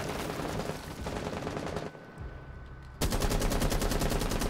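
A rapid-firing gun in Rainbow Six Siege shoots continuous automatic bursts, loud and close. There is a brief drop in intensity near the middle, then the firing resumes at full strength.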